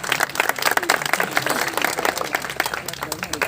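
Clapping from an audience in an auditorium at an event with poetry, mimicry, music and dance, a dense burst of hand claps lasting a few seconds, with voices mixed in beneath it.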